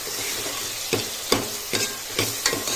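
Tomatoes frying in a pan while being stirred, steady sizzling overlaid with four or five spatula scrapes at an uneven pace, close and loud, no talking.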